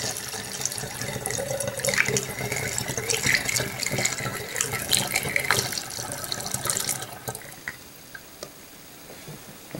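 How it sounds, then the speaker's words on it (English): A yeast mixture for mead is poured into a jug, a steady splashing, trickling stream of liquid that tapers off toward the end, close and moderately loud. "we'll pour it into what we've got over in the jug"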